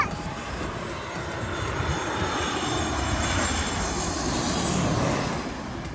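Airplanes landing and taking off beside the airport beach on St-Martin give a loud, steady, close roar of aircraft engines that fills the whole stretch, with a gentle swell near the end.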